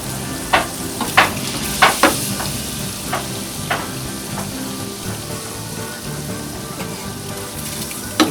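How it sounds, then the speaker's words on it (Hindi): Peeled boiled eggs fry for a three-egg omelette at a Delhi street omelette shop, a steady close sizzle of hot oil with periodic sharp scraping and tapping of a spatula in the pan. "ये 3 एग का बनता है, इसको हम फ्राई करेंगे पहले।"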